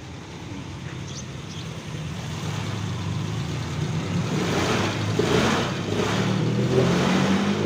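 A motorcycle engine fitted with an SGP platinum-type CDI revs steadily up close, its broadband drone rising a little and holding loud through the stretch, with no talk over it.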